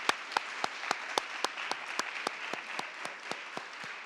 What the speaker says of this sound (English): Let's give another, just a hand clap for 34 years of service.